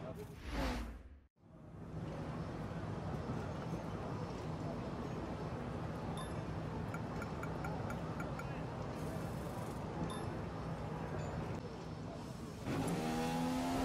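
F1 car engine from the F1 2015 game on a qualifying lap at the Canada Grand Prix, a loud, steady high-revving roar that holds nearly unbroken, briefly cut near the start, with gear-shift changes toward the end.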